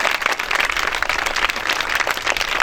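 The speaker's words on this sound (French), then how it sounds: "je voudrais qu'on les salue en les applaudissant" Crowd applauding at an outdoor flag ceremony in Côte d'Ivoire, a steady patter of many hands clapping, loud and close, with no talk over it.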